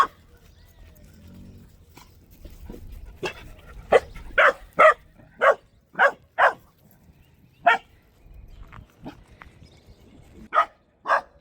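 A dog barks repeatedly in short, sharp bursts, loud and close, with irregular pauses between barks and a quiet background.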